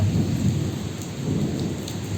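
Steady heavy rain pours with low rumbling thunder during an unseasonal storm, filling the space evenly from start to finish with no voices present.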